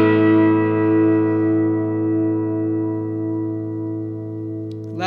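A single chord on an Eastman SB59 electric guitar rings out and sustains for several seconds, fading slowly with rich harmonics before a brief noise at the end.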